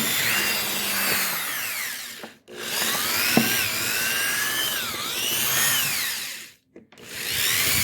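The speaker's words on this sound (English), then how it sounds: "I take the drill and I just" A power drill whines loudly through material in two long runs, drilling a hole for a flush mounting screw, its pitch rising and sagging under load, with short pauses between bursts.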